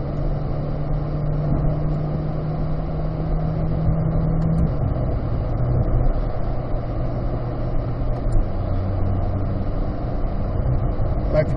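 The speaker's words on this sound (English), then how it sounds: "Let's listen to these shifts." A 2023 Chevrolet Corvette C8 Z51 2LT driven in manual mode around town. A steady low engine drone is heard from inside the car, and its pitch steps down at two gear shifts.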